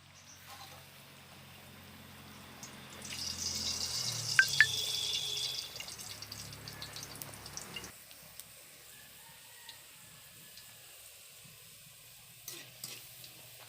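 Puri dough is dropped into hot oil in a kadai, and a soft sizzle swells in the middle before settling into a quieter bubbling hiss, fairly faint overall.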